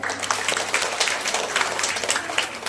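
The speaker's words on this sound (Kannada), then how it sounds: "ಜೋರಾದ ಚಪ್ಪಾಳೆ" Loud crowd applause at a gathering, dense continuous clapping from many hands that stays strong and even throughout.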